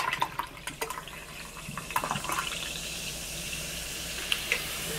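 Spindrift raspberry lime sparkling water pours over pineapple pieces, a close, steady fizzing splash with a few sharper clinks and drips early on, fading to a soft continuous hiss of bubbles.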